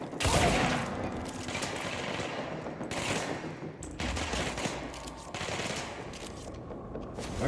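Sustained video-game gunfire aimed at the player: rapid automatic bursts and crackling shots, loud and close, running almost continuously with brief breaks between volleys.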